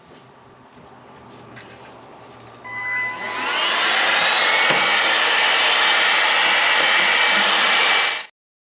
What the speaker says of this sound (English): Go ahead and vacuum off all this around here